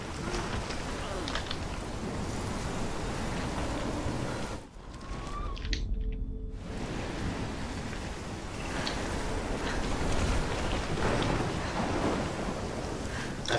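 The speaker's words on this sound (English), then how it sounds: "Like the reality of the dough, of the storm. Oh my lord! The tornado is back!" Storm sounds from the video game Life Is Strange, with a tornado, rolling as a steady, loud wash of rain and thunder-like rumble that briefly drops out midway before resuming.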